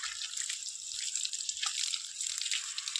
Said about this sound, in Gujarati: પાણી પણ ધીમું આવે છે.